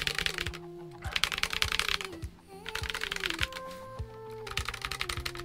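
Steady close-up typing on an XVX L75 low-profile mechanical keyboard, a dense run of quick clacky keystrokes with a faint metallic ping from the switches and a short pause midway.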